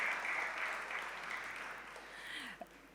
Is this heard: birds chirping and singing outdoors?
no